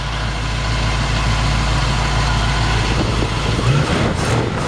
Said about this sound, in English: And listen to the engine run.